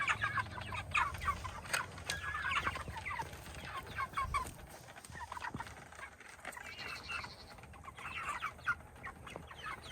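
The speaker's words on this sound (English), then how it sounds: "There's one chicken hanging at the back. It wants to rest right now." Chickens in a chicken tractor cluck and murmur steadily, a busy overlapping chorus of short clucks and trills heard fairly close during morning chores, with no talking.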